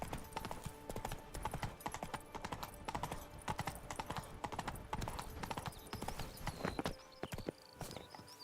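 Roach the horse galloping in The Witcher 3, a fast, steady clip-clop of hooves throughout with occasional game sounds and a faint voice.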